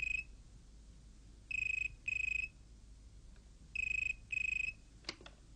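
An old 1970s-style telephone rings in double bursts, two pairs of bright trilling rings separated by a pause, fairly clear and close over a quiet room, with a short click at the end.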